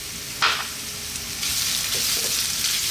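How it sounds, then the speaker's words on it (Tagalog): Garlic and ginger sizzle in a pan, a sharp scrape of stirring near the start, then the frying hiss swells louder and stays steady and close, with no one talking. "So, gisayin natin sandali."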